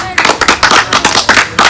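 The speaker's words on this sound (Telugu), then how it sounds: "క్లాప్స్ కొట్టండి, గట్టి క్లాప్స్ కొట్టండి." Dense, loud clapping from an audience at a song poster opening event, steady rapid claps with some crowd noise mixed in.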